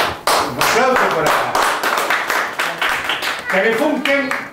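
Clapping from a small group, loud and close with distinct uneven hand strikes, while voices talk over it.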